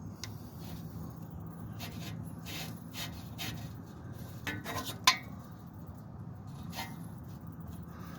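Oxygen sensor on a 2004 Dodge Ram 1500 4.7 being threaded in by hand, giving soft metallic scraping and rubbing with a sharper click near the middle, close and faint over a low steady hum.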